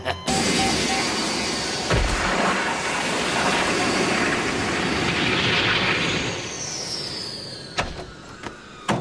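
Aircraft flying over a desert, a loud continuous engine roar that holds steady for most of the time before fading near the end, with a few brief knocks.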